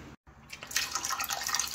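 Water poured from a bottle into a pot for homemade lemonade: after a short gap, a close, splashing, gurgling stream starts and continues steadily, with no talk over it.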